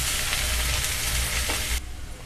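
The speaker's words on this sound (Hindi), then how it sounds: "बारीक कटा हुआ प्याज डाल देंगे और अच्छे से इसको गोल्डन ब्राउन होने तक भूनेंगे।" Finely chopped onion fries in a hot pan with a loud, steady sizzle, briefly stirred, then the hiss drops sharply near the end; no one speaks.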